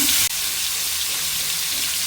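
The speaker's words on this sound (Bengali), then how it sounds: "তেলটাও গরম হয়ে গেছে এখন মাছের মাথাগুলো দিয়ে নিব" Loud, steady sizzling of fish heads frying in hot oil in a kadai, close up, with a brief dip near the start before the crackle continues.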